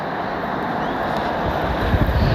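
Steady outdoor wind buffeting a microphone on an open trail, a continuous low rushing roar that swells slightly toward the end, with no talk.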